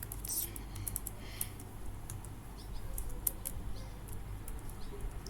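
Quiet, scattered keystrokes on a computer keyboard while HTML code is being written, with light irregular clicks and a soft background hum and no talking.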